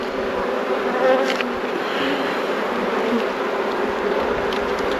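A dense, continuous hum of Welsh Black honey bees buzzing in a nucleus hive, close and steady throughout, with occasional individual bees droning nearer.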